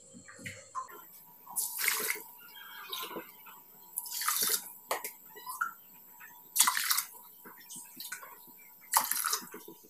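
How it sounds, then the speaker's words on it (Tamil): Water poured from a cup onto rice in a pressure cooker, about six separate splashy bursts in an uneven rhythm, close and fairly loud, with quiet gaps between them. "இதுக்கு 4 கப் தண்ணி ஊற்றி நல்லா ஒரு 4 விசில் வாரது வரைக்கும் வேக வச்சு எடுத்துக்க போகிறோம்."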